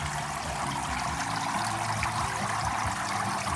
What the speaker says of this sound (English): that nice aeration flow here. So the water will continue to recycle through